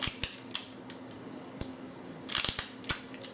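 Adhesive tape pulled from a roll and pressed onto paper sheets, a series of sharp, close crackling rips and taps coming in irregular bursts over a quiet background.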